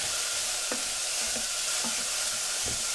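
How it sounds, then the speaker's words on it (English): Steady background sizzle with a few soft clinks and scrapes as food is stir-fried in a pan over fairly high heat, no voices. "I'm stir frying that over fairly high heat."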